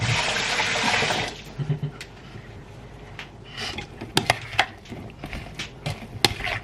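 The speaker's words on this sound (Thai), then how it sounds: "ขอล้างมือก่อน" Water pours from a tap in a kitchen for hand washing: a loud rushing flow for about a second, then softer splashes, drips and clinks of utensils nearby, with no talking.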